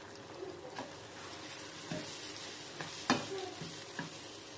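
Onions with a little salt fry in a pan for dried-fish thokku, a soft sizzle under a few scraping stirs and clinks of the spoon against the pan.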